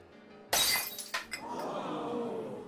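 A drinking glass shatters in a saloon scene, one sudden loud crash followed by a few tinkling fragments and a lingering rattle of shards that fades under background murmur.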